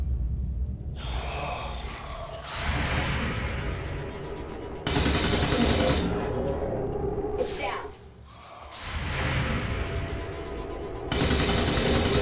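Gunfire in the XCOM 2 video game comes as loud bursts of shots in several separate volleys, with breathing and a voice in between.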